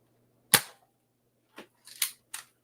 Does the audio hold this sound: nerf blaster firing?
yes